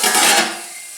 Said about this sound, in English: And then I'm going to cover the skillet